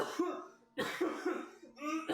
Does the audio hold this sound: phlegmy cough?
yes